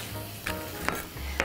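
Potatoes fry in a pan with a soft, steady sizzle, broken by a few quick scrapes and clinks of stirring, close and fairly quiet.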